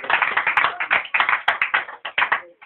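A church congregation claps in a steady, lively rhythm of dense, close hand claps that keep going without pause and then stop near the end.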